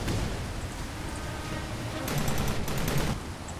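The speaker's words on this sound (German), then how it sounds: "Oh, jetzt werden wir geschossen hier." Ships exchange rapid gunfire in the futuristic city-building strategy game Anno 2070, a continuous rumbling barrage of overlapping shots with a few sharper cracks standing out near the end, heard at moderate loudness.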